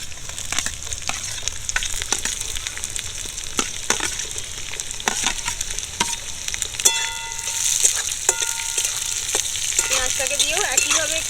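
Chopped onion hisses loudly in a hot pan while a utensil stirs it, giving a steady sizzle broken by repeated scraping clacks, with faint tonal background sounds appearing late, and no speech.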